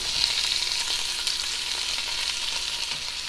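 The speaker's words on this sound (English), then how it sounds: "Okay, and next you're going to put your meat in, and it's already cooked, but we're going to brown it for a few minutes." Leftover cooked pork browns in a pot for soup, giving a steady close sizzle of frying with faint stirring scrapes, continuous and even throughout, no voices.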